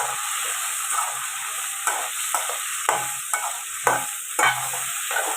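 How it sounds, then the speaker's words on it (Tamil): Vegetables sauté in a pan for a dried fish curry, with a constant hissing sizzle broken by repeated stirring scrapes at roughly one-second intervals. "இது அப்படியே வந்து ஒரு மூணு நிமிஷம் வந்து நல்லா வதங்கட்டும் அப்படியே வதங்கிட்டுருக்கோம்"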